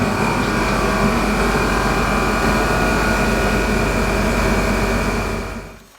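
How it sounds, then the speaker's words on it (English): A space heater in a welding and painting workshop blows with a loud, steady roar and a constant hum. It runs unchanged for several seconds, then fades out near the end. "Lovely little space heater. Blowing up the place."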